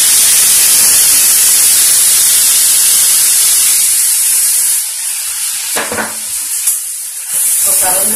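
Ground tomato and cashew paste dropped into a hot pan for a restaurant-style mixed vegetable curry, hissing loudly in a bright steady sizzle that dips as the paste lands and is stirred, with scraping strokes near the end.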